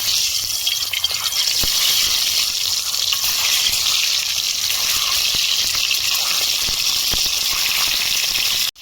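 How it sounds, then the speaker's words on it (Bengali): Beaten, seasoned egg poured into hot oil in a pan, giving a loud, steady broadband sizzle with faint crackles that holds evenly throughout, then cuts off abruptly at the end. "আমার তেলটা হেঁটে গেছে, আমি মাখানো ডিমটা ছেড়ে দেবো।"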